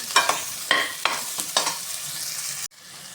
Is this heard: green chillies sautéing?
yes